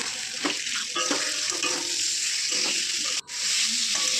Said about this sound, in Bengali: তারপরে ওটাকে নাড়াচাড়া করে তারপরে তুলে দেবো